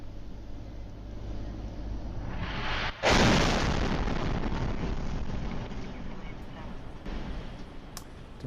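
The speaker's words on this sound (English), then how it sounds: "This is a dash cam camera capturing massive explosions." Massive explosions in a civilian area caught from a vehicle: a heavy rumbling blast erupts suddenly, followed by a long, loud roaring wash of noise that slowly fades over a steady engine drone.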